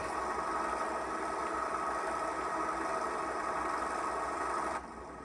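A tractor engine idles in Farming Simulator 25, a steady, dense droning hum holding even for several seconds before dropping abruptly quieter near the end, with no talking.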